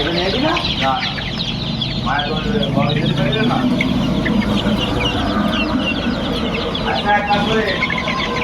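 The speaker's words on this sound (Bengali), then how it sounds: "অরিজিনাল মিশরি ফার্মি মুরগির বাচ্চা" Young Egyptian Fayoumi farm chickens, about 35 days old, cluck and chatter continuously in a close, busy flock, with occasional louder calls standing out.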